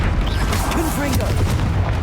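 Confringo fire-spell blasts in Hogwarts Legacy crackle and boom in a dense, continuous battle din, with shouted spell incantations and voices layered over the explosions.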